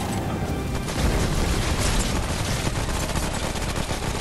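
Gunfire in the video game Remnant comes as dense, continuous volleys, a loud rattling barrage of overlapping shots and booms with no letup.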